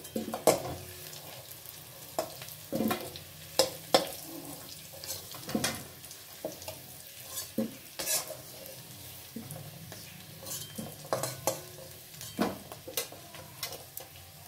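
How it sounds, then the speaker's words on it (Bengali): Potatoes frying in oil for a Bengali alur dom, a steady sizzle with intermittent scraping and stirring clicks, close and moderately loud, no talking. "এইভাবে ভালো করে লাল করে ভেজে তুলে নেব।"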